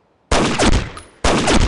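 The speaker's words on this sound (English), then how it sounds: "I'm sniping with a pistol, guys." Two sharp, loud video-game pistol shots from a sniping player in an oil rig map, spaced about a second apart, each with a brief ringing tail and no talk over them.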